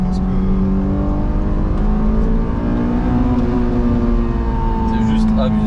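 A Honda S2000 Phase 2 sports car engine revving hard, a loud continuous drone whose pitch climbs steadily throughout.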